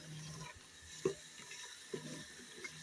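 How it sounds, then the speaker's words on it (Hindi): Chicken cooking in milk over a full flame gives a faint, low sizzle, with a couple of soft knocks from stirring. "फुल फ्लेम पे इसकी भुनाई करेंगे अच्छी तरह से।"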